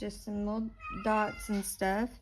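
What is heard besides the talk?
cat meowing in the background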